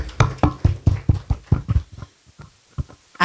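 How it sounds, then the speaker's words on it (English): A small audience claps briefly in a room during a parenting talk, a dozen or so sharp hand claps in an uneven rhythm that fade into a few scattered claps near the end. "Let's clap for him."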